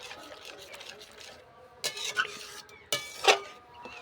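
Cabbage with spices is stirred in a pan for a Bengali maharani bandhakopi, a few short scraping strokes standing out over quiet, low background noise, close by.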